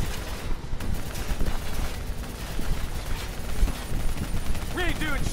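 Sustained video-game gunfire rattles at an APC and a VTOL aircraft, a dense near stream of rapid shots with brief bursts and chirps over it, no talking.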